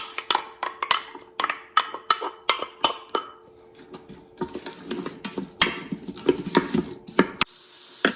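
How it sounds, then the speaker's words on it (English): Chopped onions hitting hot oil in an Instant Pot and sautéing, with a run of sharp spatters and stirring taps early on, then a steadier crackling sizzle up close. "into the oil, I'm going to go ahead and add my onions so then they can start getting nice and browned"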